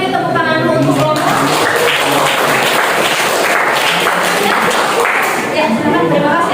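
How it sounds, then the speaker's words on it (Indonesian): Steady applause from a classroom group fills the whole stretch after a group presentation, dense clapping continuing without a break, with a voice speaking briefly at the start. "kita beri tepuk tangan dulu untuk kelompok"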